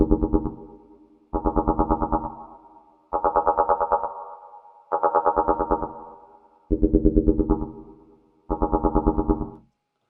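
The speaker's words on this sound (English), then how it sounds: "It's just a square wave, bit of distortion." A distorted square-wave synth run through a frequency shifter plays six repeating pulsing phrases separated by short gaps, each wobbling in pitch with metallic, shifted overtones.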